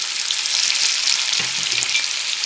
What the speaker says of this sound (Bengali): আলুগুলো পেঁয়াজের মধ্যে লাল লাল করে ভেজে নেবো সামান্য নুন আর হলুদ দিয়ে।